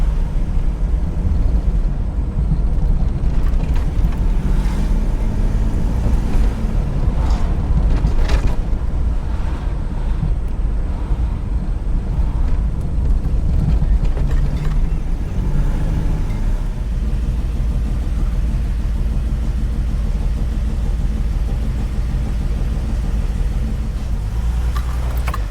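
A re-jetted vehicle engine pulls steadily through a short test drive, a loud continuous rumble with wind buffeting and a few creaks, shifting tone partway through and carrying on alone without talk.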